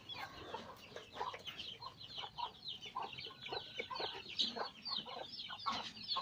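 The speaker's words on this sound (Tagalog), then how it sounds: "May mga manok din tayo dito." Chickens cluck repeatedly in short irregular bursts around a backyard, fairly close and continuous with no talking.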